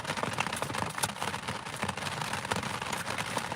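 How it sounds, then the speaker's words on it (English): Recorded rain plays steadily in the background indoors as a constant, fairly close hiss with fine pattering crackles and no voices. "I got the rain going in the background."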